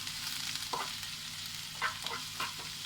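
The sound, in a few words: sautéing chopped ingredients in a pan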